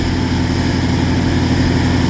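A vehicle engine idling steadily while warming up in minus 36 degree cold, a continuous low rumble with a droning hum, loud and close, without pauses or talk.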